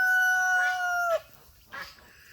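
A rooster crows once, loud and close, followed by a short clucking call from a chicken after a brief pause.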